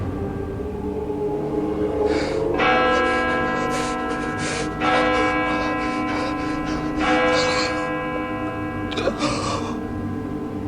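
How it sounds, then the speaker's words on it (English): Bells chime in a played clip from a staged psychic show: several bright, sustained ringing tones overlap and swell in repeated strokes, loud and resonant over a steady background. "In a moment, bells will chime."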